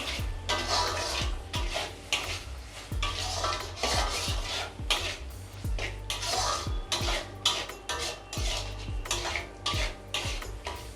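Salt and turmeric being mixed into pieces of katla fish in a bowl, a steady run of scraping, clinking utensil strokes with no talk.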